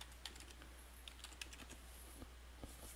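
Keystrokes on a computer keyboard as a web address is entered, a scattered run of light, quick clicks at close range over a steady low hum, with no talking.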